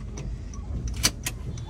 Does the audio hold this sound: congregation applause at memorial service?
no